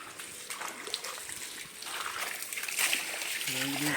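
Motor-pumped water from the Kızılırmak river splashes and spatters during a house cleanup, a broad, fairly loud wash of splashing that swells toward the end, with a voice speaking briefly under it near the close.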